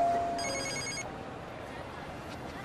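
A telephone rings once in a short electronic burst in a quiet room, fairly clear and close, followed by low background hush.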